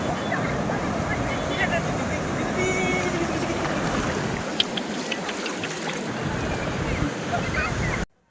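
Sea waves at Puri beach on the Odisha coast roll and wash in a continuous, fairly loud surge of surf, steady throughout with no pauses.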